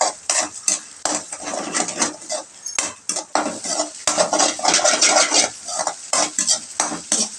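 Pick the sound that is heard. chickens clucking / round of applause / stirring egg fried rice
stirring egg fried rice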